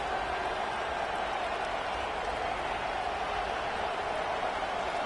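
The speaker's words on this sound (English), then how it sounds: "Now the crowd responding in the red zone, trying to help this defense." Stadium crowd in a college football video game roars steadily as the defense holds in the red zone, a dense, continuous wash of cheering with no breaks.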